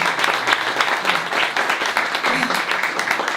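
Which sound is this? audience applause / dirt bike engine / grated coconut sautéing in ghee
audience applause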